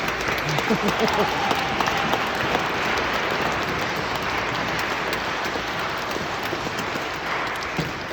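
A church congregation claps steadily and evenly for a child, a soft continuous patter of many hands filling the space without pause.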